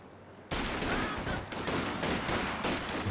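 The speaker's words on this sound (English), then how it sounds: "Heavy machine gun team ready for battle." Heavy machine gun fire in Company of Heroes 2, a 3v3 battle on the Oka River map, erupting abruptly after a short quiet lead-in into dense, sustained rapid bursts with layered gunfire and battlefield noise throughout.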